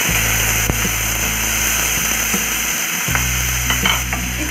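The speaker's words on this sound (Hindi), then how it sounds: "कढ़ाई में तेल डाल लेंगे, थोड़ा सा हल्दी पाउडर डाल लेंगे, इसमें झींगा मछली डाल लेंगे" Prawns frying in oil with turmeric powder in a kadai, a loud, dense, continuous sizzle heard up close, with a few faint stirring knocks and a steady low hum underneath; no one speaks.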